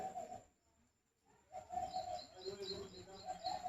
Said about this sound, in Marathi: पोपट.